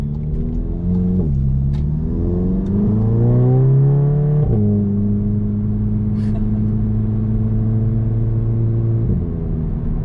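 An APR-tuned Mk7 VW GTI accelerates hard onto a busy road, its engine droning loud and close with rising pitch through two gear shifts before settling into a steady cruise.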